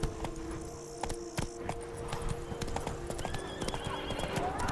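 Roach, the horse in The Witcher 3, gallops with steady rhythmic hoof clip-clops, a short neigh and jingling tack near the start, over faint background game ambience.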